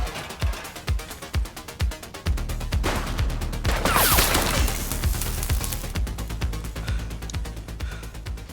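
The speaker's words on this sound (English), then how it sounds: "Who's shooting?" Rapid gunfire bursts crackle through a game scene from The Precinct, starting as sharp separate shots and thickening into a loud, sustained volley with metallic crashes, then easing into scattered shots.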